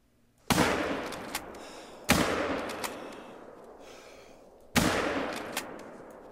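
Three loud rifle shots in theHunter: Call of the Wild during a mule deer hunt, each a sharp crack trailing into a long rolling echo, spaced unevenly a couple of seconds apart.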